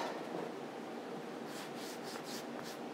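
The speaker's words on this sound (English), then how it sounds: "roll the dough up" Brioche dough being rolled up loosely on a floured surface gives a steady, soft rubbing and scuffing at close range, with faint papery brushing strokes toward the end and no talking.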